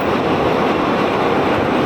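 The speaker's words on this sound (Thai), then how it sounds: "ตอนนี้ขบวนรถไฟกำลังค่อยๆ วิ่งเข้าสู่สถานี ด้วยความเร็วที่ลดลงเรื่อย ๆ" Rapid express 102 from Chiang Mai to Bangkok rolls slowly into Nakhon Lampang station, a steady loud rumble of wheels and carriages, close by and continuous with no voices.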